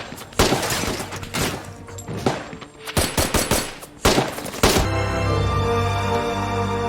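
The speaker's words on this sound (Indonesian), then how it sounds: "Tyler terus menembaki setiap tentara dengan semua sisa-sisa kekuatannya" Rapid bursts of automatic gunfire from the action film Extraction 2, loud and close, with clusters of sharp shots and a pause before a final sustained rumble.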